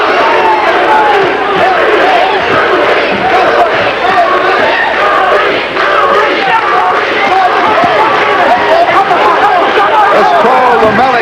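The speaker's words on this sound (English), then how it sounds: "This pro-Lomeli crowd chanting Louie, Louie." A pro-Lomeli boxing crowd chants "Louie, Louie" at a bout against Duplessis, a loud, dense roar of massed voices and rhythmic shouting that fills the arena without a break.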